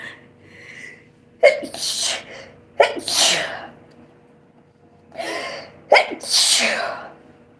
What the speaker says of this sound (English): going to sneeze right now.